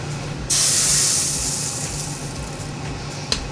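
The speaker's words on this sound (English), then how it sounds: "you're going to put a little tiny bit of water into the pan and see if it balls up like mercury" A small splash of water hitting a hot pan being tested for searing steak bursts into a loud sudden hiss of sizzling steam that slowly fades over a few seconds, close up, with a faint clink near the end.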